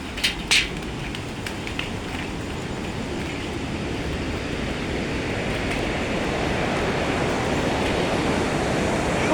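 The Seti river flows beneath a bridge in a continuous rushing roar that grows slightly louder, with a couple of brief knocks near the start.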